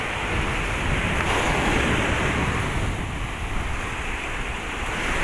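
Strong sea waves surge and crash at the Julugan fish terminal in Tanza, Cavite, a continuous loud wash of surf mixed with wind buffeting the microphone, steady throughout with no voices.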